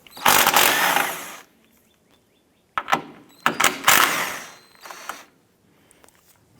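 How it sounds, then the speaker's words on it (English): A 13mm socket on a ratchet removes strut tower brace bolts on a 2004-2008 Acura TL, with several close, sharp bursts of ratcheting clicks separated by short silent pauses. "I'm going to use a 13mm socket."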